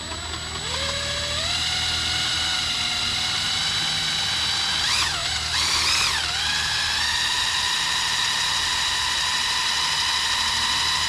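A cordless electric drill driving a kayak's propeller whines steadily and loudly throughout, with the pitch dipping and rising twice near the middle as the variable trigger shifts, over a low rumble of water.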